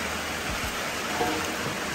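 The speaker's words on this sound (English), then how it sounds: "it's raining so heavily here" Steady, dense broadband hiss of heavy rain falling continuously in Ghana, fairly close, with no talking.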